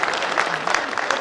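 Conference audience at the 1st ASAL Conference, Ocean Beach Resort in Malindi, breaking into steady applause, a dense wash of many hands clapping close and fairly loud throughout.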